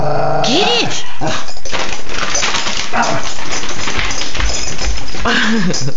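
Close and loud, a dog growls, whimpers and gives short barks in a busy, excited tussle. People talk and shout encouragement over the animal sounds throughout.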